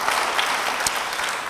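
A church congregation claps after a sermon prayer, steady dense applause filling the room for under two seconds with no talk over it.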